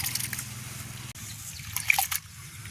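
Soaked urad dal is washed by hand in water, giving soft trickling, sloshing and dripping sounds close to the microphone.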